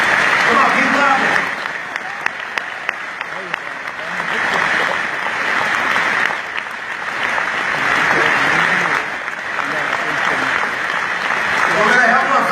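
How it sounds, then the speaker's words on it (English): Sustained applause from a seminar audience clapping steadily and loudly throughout, with voices and crowd noise mixed in beneath the claps. "Come on, keep clapping."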